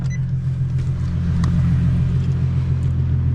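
Infiniti G37 with an aftermarket exhaust cruising, its engine a steady, loud low rumble that holds constant with little change in pitch.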